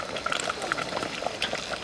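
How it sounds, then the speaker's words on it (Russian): Porridge boils in a pot at an overnight fishing camp, a dense close-up bubbling and popping with a steady simmering hiss and no voices. "В общем, мы варим кашку. Все кипит, бурлит."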